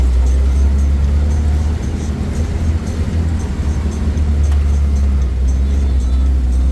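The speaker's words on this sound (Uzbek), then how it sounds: "Oyga ikkita katta mashina aniq o'sha yerdan kelyapti." Two large vehicles approach on a road with a loud, steady engine rumble and a heavy low drone that holds close and constant throughout.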